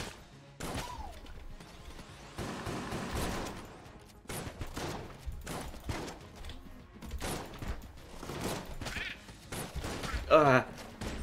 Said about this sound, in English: A lot of bullets coming our way.